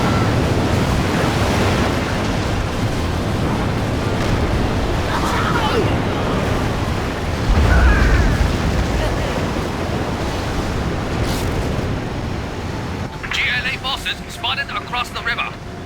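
Broad, surging rush of water pouring from a broken dam in Command & Conquer: Generals, loud and steady like heavy surf, with a voice speaking over it near the end.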